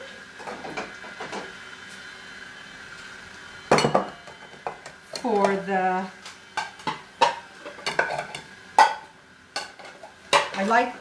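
Ceramic bowls and dishes clink and knock together in a home kitchen while chilaquiles are being plated, in a series of sharp, irregular clatters, close by, with a person talking between them.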